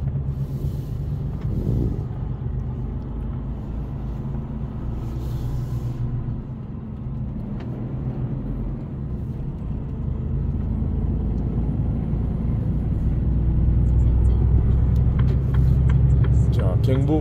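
Heavy 18-ton loaded truck pulls away from a rest area onto the Gyeongbu Expressway, a deep engine rumble building steadily with a hiss near the start and rising load toward the end, while someone talks over it.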